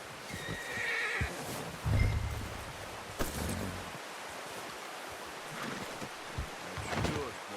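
A horse in Red Dead Redemption 2 whinnies loudly and clip-clopping hooves follow, with brief thumps and a soft wind-like background.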